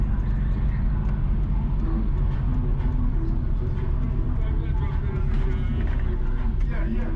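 Car driving south along the main road through Richmond, St Mary, Jamaica, with a steady low engine and road rumble throughout under a constant hum of traffic noise.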